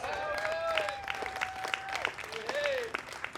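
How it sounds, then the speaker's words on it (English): Crowd at a charity golf classic gives a scattered round of clapping, individual claps popping out over a mix of voices and tonal chatter at moderate distance. "So once again, give yourselves a round of applause"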